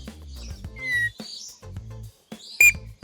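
Birds at Jurong Bird Park chirp and whistle in short, bright calls, several near and loud notes scattered over a few seconds with brief pauses, no talk over them.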